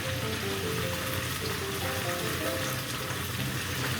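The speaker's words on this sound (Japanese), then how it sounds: "ちょっとね、裏返す時は空気に触れながら揚げてあげてください" Salt karaage chicken coated in rice flour deep-fries in rice oil, giving an even, dense bubbling hiss that holds steady and fairly loud throughout, with no voices.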